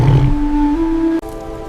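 A lion roars loudly and close, a sustained tonal roar that holds and rises slightly before cutting off abruptly, followed by a lingering low rumbling tail and no voices.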